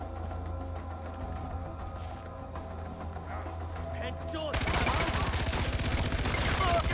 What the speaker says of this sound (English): Hit him with the LMG!